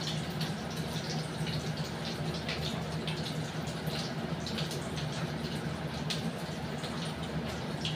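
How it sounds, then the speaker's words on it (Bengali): Sauce poured into a hot pan while cooking, a steady soft liquid hiss and trickle running evenly throughout, close and moderately quiet with no voices. "এবার এটার মধ্যে আমি সস দেবো।"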